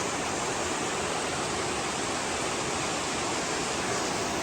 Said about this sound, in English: Just trying to get a look at this waterfall over here.